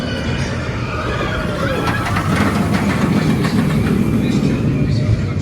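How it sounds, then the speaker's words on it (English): Roller coaster train on The Swarm at Thorpe Park, a steady loud rumble of wheels on track with rising roar and rattling through the ride, close to the microphone, with no clear talk. "Yeah, we've been on the swarm again, love that ride."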